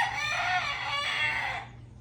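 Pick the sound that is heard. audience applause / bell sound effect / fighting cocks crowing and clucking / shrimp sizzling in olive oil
fighting cocks crowing and clucking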